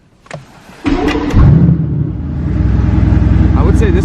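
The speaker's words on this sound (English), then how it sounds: "All right, let's get a cold start." Cold start of a Nissan GT-R engine: a starter crank leads into a loud catch, then the engine revs up briefly before settling into a deep, steady, rumbling idle close by.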